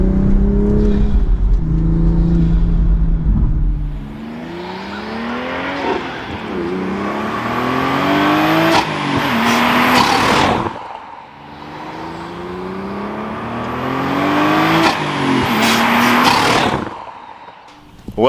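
A manual Toyota Supra fitted with an Armaspeed carbon fiber intake revs up loudly and repeatedly, engine pitch climbing in long sweeps, with a brief idle before and a sharp drop-off after each rise, heard up close with no talk.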